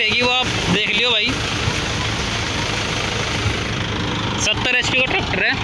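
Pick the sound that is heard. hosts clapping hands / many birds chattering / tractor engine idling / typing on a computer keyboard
tractor engine idling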